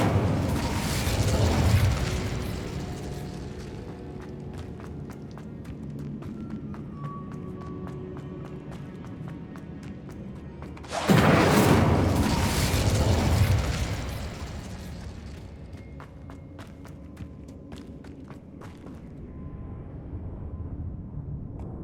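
The Incendio fire spell goes off twice in Hogwarts Legacy, each cast a loud burst of whooshing, crackling flame that slowly fades, with mechanical game sounds between, no talking.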